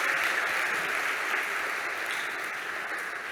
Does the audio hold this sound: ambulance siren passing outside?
no